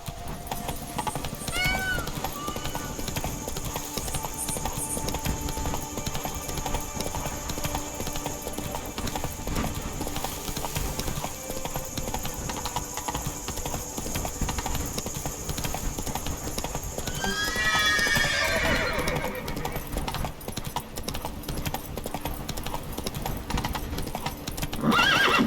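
Hooves of a horse in The Witcher 3 clip-clop steadily through a game scene as the horse gallops, with a neigh or whinny rising over the hoofbeats, set against a continuous ambient game soundscape.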